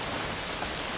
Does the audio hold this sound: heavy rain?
yes